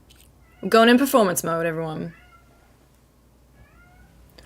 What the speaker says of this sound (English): if you can hear my cat in the background,